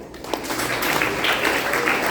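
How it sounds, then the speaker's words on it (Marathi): An audience of children in a village gathering claps loudly together, a brief continuous burst of applause with no talk over it. "जोरदार टाळ्या वाजवा त्याच्यासाठी"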